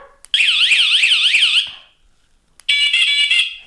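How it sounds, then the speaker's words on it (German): A Makerfire electronic bicycle bell sounds in one of its ring modes, a loud piercing warbling electronic alarm tone in two bursts separated by a short pause, heard alone and close up. "Das waren die vier Klingelmodis."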